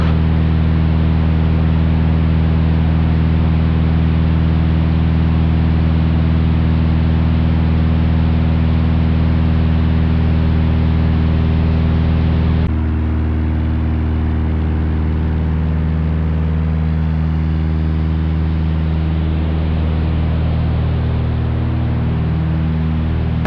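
Small airplane engines running steadily at high power in a backcountry setting, a loud continuous drone with strong low harmonics that shifts tone briefly midway, with no talk over it.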